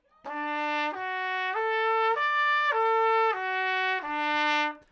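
A trumpet plays a smooth, connected arpeggio without breaks, rising note by note to a high top and descending again, bright and close.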